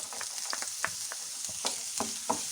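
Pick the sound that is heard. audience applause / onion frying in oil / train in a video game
onion frying in oil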